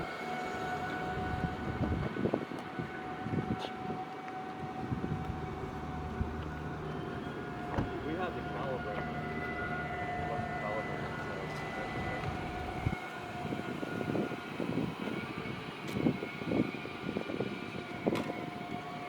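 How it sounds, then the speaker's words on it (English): A 2022 Toyota Tundra Platinum hybrid pickup at low speed gives off a steady whining drivetrain hum with sustained tonal lines over a low rumble of road and cabin noise. "when it's running in low speeds, this vehicle has a new hybrid noise to it."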